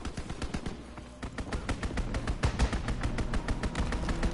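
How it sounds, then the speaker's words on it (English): Strafing run in Call of Duty, rapid bursts of heavy automatic gunfire, dense repeated cracks that pause briefly then return louder and more continuous. "Strafing run inbound."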